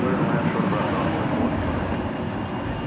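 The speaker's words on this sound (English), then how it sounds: "Here comes an E-Jet from Corpus Christi, Texas." An American E-Jet airliner arriving from Corpus Christi, Texas, passes at DFW Airport, heard as a steady broad jet roar that fills the whole stretch at moderate loudness, slowly easing off toward the end.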